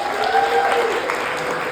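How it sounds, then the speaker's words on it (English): A class of students applauds their school counselor at a senior class meeting, a dense, steady wash of clapping throughout with faint voices mixed in. "Clap for Miss DK."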